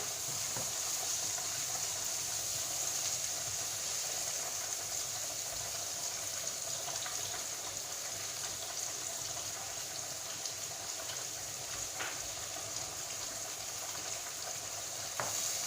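Mushrooms fry and get stirred in a pan for a simple pasta dish, giving a steady, even sizzle with occasional light scrapes throughout.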